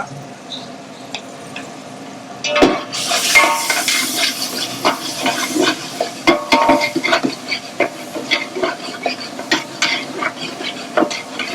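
Onions with half a kilo of tomatoes frying in a pan for a mixed vegetable saagu, with steady sizzling, scattered stirring scrapes and utensil knocks close by.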